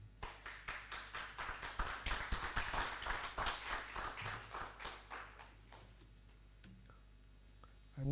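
Audience clapping at an international conference session, a steady burst of many hands that swells, holds for several seconds, then thins out to scattered claps before a mic bump at the end.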